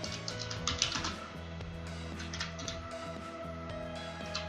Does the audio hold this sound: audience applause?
no